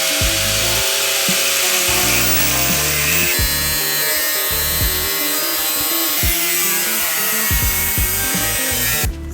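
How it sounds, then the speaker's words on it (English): A cutoff wheel grinds through a Tacoma truck bumper with a loud, continuous close-up shriek that wavers in pitch as the cut progresses. "Lots of time with a cutoff wheel."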